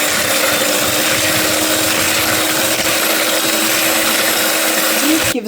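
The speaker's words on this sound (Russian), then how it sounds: "Обычно взбиваем венчиком или как это, миксер." A steady electric hand mixer whirs continuously, close and loud, whipping cream, then cuts off abruptly at the end.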